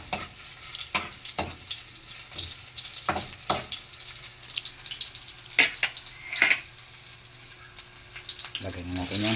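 Garlic, onion and ginger sautéing in a pan for a squid dish, a steady sizzle broken by repeated sharp clinks and scrapes of a utensil against the pan, with some faint background voices.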